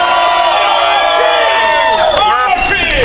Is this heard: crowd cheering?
yes